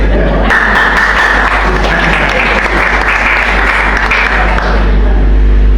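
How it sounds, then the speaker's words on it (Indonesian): Loud, steady applause from a church congregation at an anniversary service, continuous clapping filling the whole stretch without pause. "Boleh tepuk tangan"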